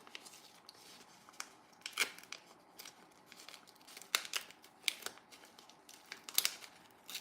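Scissors snip through a washi sticker sheet close up, giving sharp irregular cuts with light paper crinkles in between, fairly quiet, and no voices.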